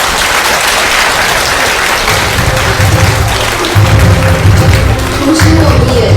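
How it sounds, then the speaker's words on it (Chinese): An audience at a science-and-art event applauds to welcome Professor Wilczek onto the stage, a loud, sustained wash of clapping from a crowd that keeps going steadily with a low rumble underneath. "让我们用热烈的掌声欢迎维尔切克教授上台"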